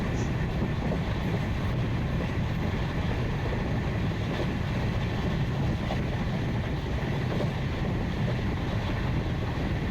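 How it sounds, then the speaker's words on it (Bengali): Passenger train on the Sairang Express pulling into Jangipur railway station, a steady low rumble and rattle of carriages with wind buffeting the microphone, continuous and fairly loud throughout. "আমাদের ট্রেন এসে পৌঁছালো জঙ্গিপুর রেলওয়ে স্টেশন"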